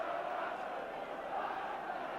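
Ipswich Town supporters roar and shout during a football match against Manchester United, a dense, steady wall of crowd noise heard from a distance without a break.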